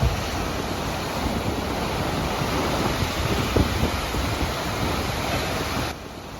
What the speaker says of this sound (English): all the water is rushing and it is slamming against these rocks